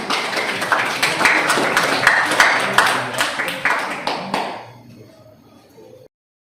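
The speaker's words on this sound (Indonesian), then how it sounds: "terima kasih, tepuk tangan dulu buat kita semua" A classroom of students applauds together, dense clapping that is loud and steady for over four seconds, then fades out to quiet room noise.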